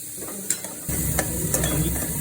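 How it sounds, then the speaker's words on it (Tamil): Vegetables for veg fried rice are stirred and sautéed in a hot pan, a steady sizzle with occasional scrapes of the spoon that grows louder partway through, close up and without voices. "இப்போ வந்து இதை காட்டுங்க, நல்லா அப்படி வதக்கிட்டே இருக்கணும்."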